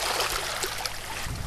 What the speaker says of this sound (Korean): 물소리만 찰싹찰싹 들리잖아요